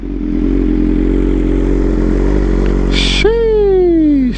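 A BMW M1000RR superbike engine idling with a deep steady rumble, then a short clatter and a sharp rev that rises and falls, close and loud.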